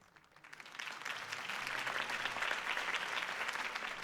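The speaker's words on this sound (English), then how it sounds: "If only Mr. Wayne, my campaign's largest backer, could have heard that applause" Applause from a large crowd in the video game Batman: The Telltale Series swells in after a brief quiet start and holds steady, a dense wash of clapping.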